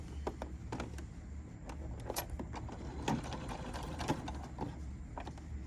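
A sewing machine runs fairly quietly while stitching the cover of a plush toy, giving a steady low mechanical hum with light clicking and ticking over a few seconds, with no talking.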